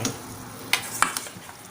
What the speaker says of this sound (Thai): ตอนนี้เครื่องสมุนไพรก็ เดือด เต็มที่แล้วนะเพื่อนเนาะ เราก็จะใส่ เนื้อเป็ดลงไป